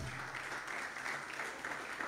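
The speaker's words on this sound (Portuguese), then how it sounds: "com uma salva de palmas do nosso presidente, Humberto" Applause at a chapter event greeting its president, a dense, even wash of many hands clapping at moderate distance, steady throughout with no voices over it.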